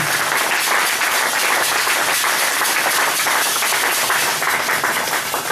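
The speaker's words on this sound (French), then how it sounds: "give the Lord a hand clap of praise" A church congregation claps loudly in praise of the Lord, a dense, continuous burst of many hands sustained evenly across the whole stretch.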